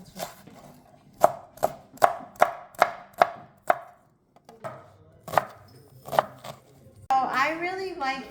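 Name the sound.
knife chopping an onion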